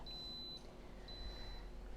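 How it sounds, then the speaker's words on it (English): Two high electronic beeps from an Instant Pot pressure cooker, the first short and the second longer, over a quiet background hum. "we're just going to wait a second, and it's going to beep"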